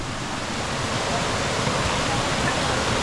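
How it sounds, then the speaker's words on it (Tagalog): Secret Falls in Montalban, Rizal roars as a steady, broadband rush of falling water, loud and continuous throughout with no break or pause. "makita na natin yung falls na pinakamaganda"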